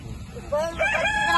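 Chickens near a roadside dwelling in the rainy season give a short burst of clucking, then a rising crow-like call, close by and fairly loud against a low background rumble.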